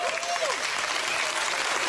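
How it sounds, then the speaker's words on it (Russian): Studio audience at a televised Russian comedy show on Channel One breaks into dense, steady applause, loud and close, filling the whole moment without a pause. "Алена Свиридова, ваши аплодисменты."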